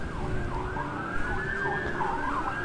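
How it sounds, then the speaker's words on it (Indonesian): An ambulance siren wails steadily with a rising and falling tone, fairly loud and close, over low traffic rumble. "Tuh ambulan"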